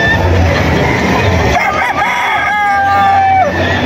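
Battle stag roosters crow in a loud, busy setting at a cockfighting event, with a long drawn-out crow rising over crowd babble and general noise.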